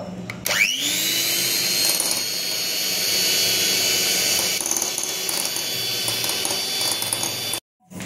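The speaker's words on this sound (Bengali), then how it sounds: "ইলেকট্রিক বিটার দিয়ে আমি বিট করে নেব" An electric beater whips dalgona coffee with sugar, its motor starting with a rising whine and then holding a steady, close mechanical whir for several seconds before cutting off abruptly near the end.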